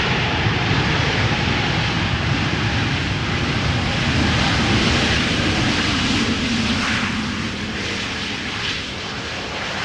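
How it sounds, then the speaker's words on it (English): Loud, broad roar of jet engines on an Air Transat A321neo airliner landing at Amsterdam Schiphol, sustained and close, slowly easing off toward the end as reverse thrust winds down. "Nice to hear that the Air Transat Neo is able to produce some noise when the reverse thrust is applied"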